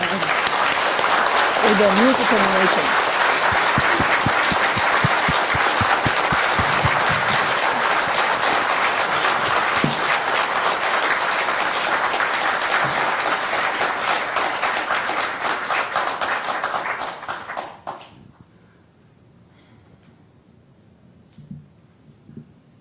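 An audience at an anniversary gathering applauds in a long, loud, sustained wave of clapping that runs for most of the time before fading quickly into near silence with a few faint stray sounds.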